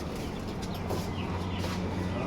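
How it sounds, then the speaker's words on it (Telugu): Hens and chicks at an animal auction in Kuwait, clucking and peeping as a dense, steady flock with no clear pauses. "కోడి పిల్లలు, కోళ్ళు"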